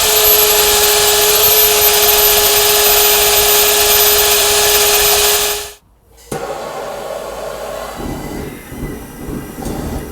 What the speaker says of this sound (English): So we've got our portable bandsaw. We're going to pop this on. We're going to get this cut through